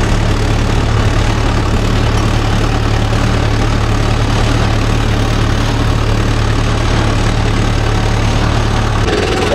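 A Mahindra Yuvo Tech Plus 585 4WD tractor engine runs steadily at close range with a deep, continuous diesel drone and a constant low hum, no voices over it.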